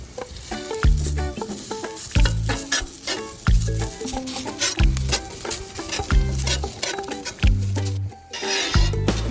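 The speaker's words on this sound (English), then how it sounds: "we're gonna put some onions on there and just burn the crap out of them" Onions fry in oil on a sand-blasted cast iron griddle, sizzling and crackling loudly up close while a utensil repeatedly scrapes and clinks against the metal in a busy, uneven rhythm.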